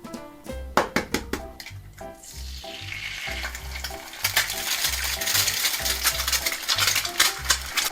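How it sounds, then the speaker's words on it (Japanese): Eggs fry in an iron frying pan, a steady bright sizzle swelling and crackling continuously, preceded by a few sharp taps and clinks of the pan at the start. "これちょっと目玉焼きを焼いて比べてみましょう"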